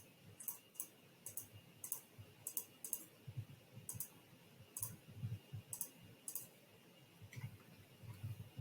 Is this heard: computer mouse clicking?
yes